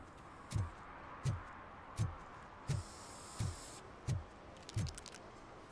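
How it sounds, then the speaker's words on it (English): Aerosol spray painting in the video game RoboCop: Rogue City, heard as a steady hiss under a series of regular, evenly spaced dull thuds, about one per second, fairly quiet. "I just wanted to see what they were spray painting on here."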